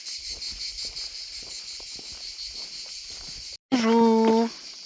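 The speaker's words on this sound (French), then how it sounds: "Toujours avec le chant des cigales." Insects, cicadas, buzz steadily at a high pitch throughout, with soft footsteps of a walker below on a village trail, a short silent gap near the end, then a louder tonal burst close by.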